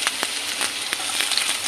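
Chopped ginger hits hot oil already browning with fenugreek seeds for a potato and tomato sabji, giving a close, loud crackling sizzle with quick spitting bursts throughout.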